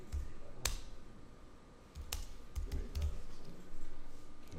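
Text being typed on a computer keyboard during an Adobe Illustrator session, irregular close clicks and clusters of keystrokes over a quiet room, no talk.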